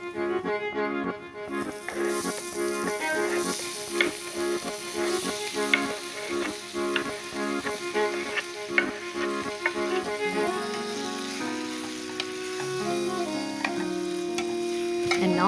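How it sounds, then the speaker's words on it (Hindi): Masala spice paste frying in a pan while being stirred, a steady sizzle and crackle with repeated clinks of a spoon against the pan, close and continuous under light background music. "बस ये मसाला भुन जाए तो"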